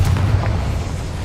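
A Confringo fire spell in Hogwarts Legacy, heard as a deep, rumbling blast with a sustained low boom that fades slowly over about a second.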